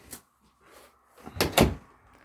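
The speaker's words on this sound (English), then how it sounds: "I'm going to close the door and finish my video." A door swings shut with a couple of quick knocks and thumps, the final closing impact loud and near after a brief quiet stretch.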